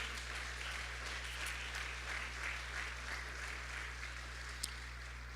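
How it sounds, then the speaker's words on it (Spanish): A church congregation applauds during a worship service, a soft, steady wash of many hands clapping at a distance, fairly faint and even throughout. "En una ofrenda de palmas al Rey de Reyes."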